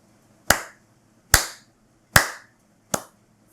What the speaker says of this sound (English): we just gotta take a moment to give Apple a round of applause